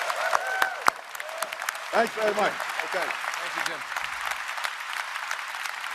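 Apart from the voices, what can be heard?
applause for the Prime Minister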